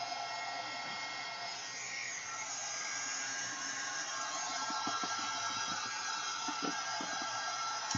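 Hair dryer running steadily throughout, drying gesso on a mixed media canvas, a constant close airy whir with faint clicks and handling knocks near the end.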